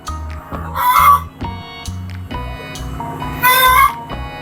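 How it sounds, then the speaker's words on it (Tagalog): Backyard chickens cluck in repeated short bursts while being fed, with a few louder, higher calls rising over the steady, close-up flock noise. "Ayan na pakain ng mga manok namin dito."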